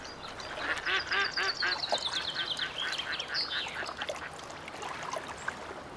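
Mallard ducks quack loudly and repeatedly in a squabble, harsh overlapping calls in rapid bursts with higher squeals, close by and alone without talk.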